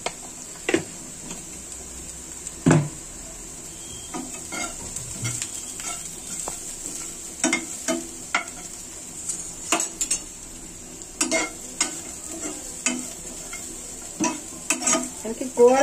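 Beetroot curry frying in a pan while it is stirred, giving scattered spoon scrapes and clinks over a soft, steady sizzle, close and fairly quiet, with no voices.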